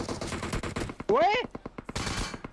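Rapid DP machine gun fire in PUBG Mobile crackles in quick repeated bursts across the clip, mixed with in-game voice and a brief rising tonal sound in the middle.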